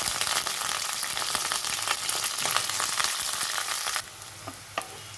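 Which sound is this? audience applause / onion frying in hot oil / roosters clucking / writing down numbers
onion frying in hot oil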